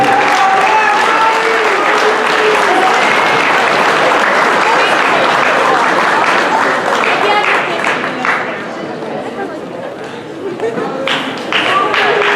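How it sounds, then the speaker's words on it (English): Sustained, loud applause from a school assembly crowd honoring the Winslow High School cheer team, dense clapping throughout with voices mixed in, dipping slightly near the end before swelling again. "Another huge round of applause for the Winslow High School cheer"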